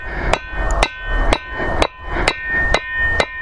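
A heavy hammer strikes a metal rivet while it is set to mend a garden tool, seven sharp, ringing blows at an even, steady pace, loud and close, with no talk.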